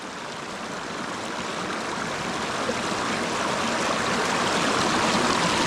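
A river stream flows steadily below a mountain trail beside a pine plantation, a broad, continuous rushing wash that grows slightly louder over the clip, with no voices.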